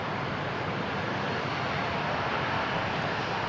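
A departing airliner bound for Dublin climbs out from DFW, a faint, steady broadband jet roar heard from a distance with no other sounds on top.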